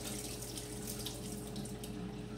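Tap water runs steadily into a pot of pinto beans being rinsed, a continuous close splashing and hiss with no pauses and no talking.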